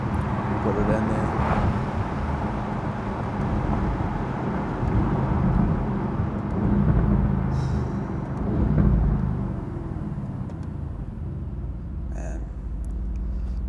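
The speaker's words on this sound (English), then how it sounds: "Mercedes always gets it right on the exhaust." Mercedes-AMG GT R Roadster, a 2020 model, with its exhaust set to the sportiest mode, giving a loud, steady low rumble that swells and eases over about fourteen seconds.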